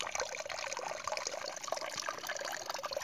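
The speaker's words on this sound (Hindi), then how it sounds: "देखिए पानी चारों तरफ पानी ही पानी अपने आप निकल रहा है" Water gushing and overflowing on its own from a tubewell with no pump, a steady dense splashing rush that stays constant and fairly close, with no talk over it.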